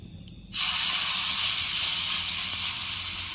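Pitha batter hits an oiled hot tawa with a sudden loud, bright sizzle that holds steady and hissing after a brief quieter moment.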